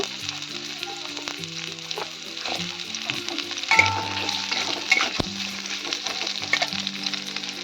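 Two medium onions, sliced thick, fry in hot oil and ghee for chicken chaap, giving a steady close sizzle with occasional stirring scrapes and no talking.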